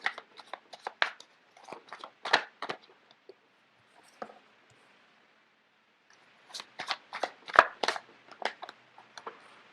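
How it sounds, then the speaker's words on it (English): A deck of tarot cards is shuffled close by in two bursts of quick riffling and flapping, separated by a near-silent pause, with no talking. "So let me just get the cards out first of all."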